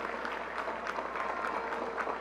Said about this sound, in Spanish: Todos nos merecemos un profundo aplauso.